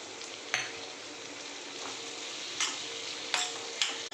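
Freshly grated wet coconut goes into a pan of cooked bottle gourd bhaji, giving a steady soft sizzle broken by a few sharp stirring scrapes, close and moderately loud, with nobody talking.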